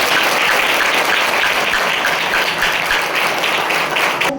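An audience at a school children's cultural assembly claps continuously in dense, sustained applause that stays loud and even throughout.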